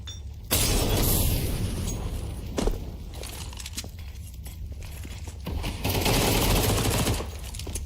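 Submachine gun fire in a competitive tactical shooter match: rapid automatic bursts crackle close and loud, separated by short pauses, with game footsteps and clatter between them.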